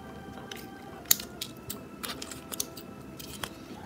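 Scissors make a few sharp, close snips while trimming excess material on a craft doll crib, quick isolated cuts over a quiet background.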